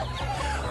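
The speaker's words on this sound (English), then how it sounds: "And maybe some clucking, please." A short burst of chicken clucking played as a sound effect, close and fairly loud, over a steady low background rumble.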